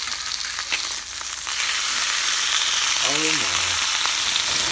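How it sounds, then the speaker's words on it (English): A sirloin steak fries in a pan with a loud, steady sizzle that grows fuller as it is turned. A man briefly exclaims partway through. "Let's go over and turn the steak."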